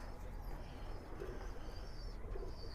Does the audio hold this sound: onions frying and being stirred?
no